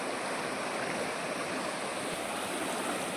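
Water rushes steadily through an old underground irrigation tunnel channel running beneath several villages, a constant broadband roar without pauses or voices.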